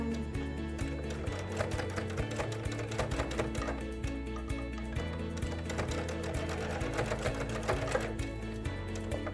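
A sewing machine stitches a pleated fabric face mask with a steady, rapid, rhythmic clatter, running continuously and fairly quietly throughout without talk.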